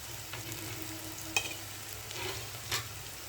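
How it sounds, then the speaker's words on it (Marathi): Onion fries in oil for upma, a soft steady sizzle close by, with a couple of brief clinks or stirring scrapes and no one talking. "कांदा बऱ्यापैकी भाजला आहे"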